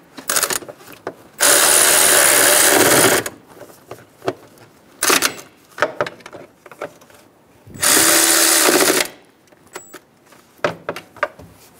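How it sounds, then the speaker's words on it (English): A hand ratchet tightens the bolts on a radiator cooling fan bracket of a 2011-2014 Hyundai Sonata. Two long bursts of rapid clicking alternate with single metallic clicks and taps at close range, with no talking. "Snug the bolts down."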